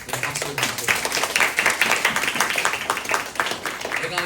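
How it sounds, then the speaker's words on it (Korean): A church congregation at a Sunday service claps rhythmically to celebrate a pastor couple's newborn. The sound is loud, dense and even throughout, with faint voices mixed in. "박수 주세요."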